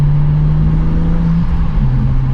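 BMW M2 with catless downpipes and its exhaust valves shut, cruising through Boston at low speed, giving a steady close drone with a slight pitch dip partway through, no talking over it.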